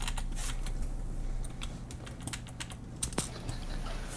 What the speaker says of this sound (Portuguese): Pode dar para ouvir o teclado.